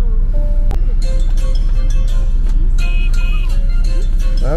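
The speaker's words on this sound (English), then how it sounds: "you're hearing the wheels on a bus, on an actual bus." Inside a moving bus on a school field trip, a steady, loud road and engine rumble fills the whole stretch, with faint clinks and tones over it.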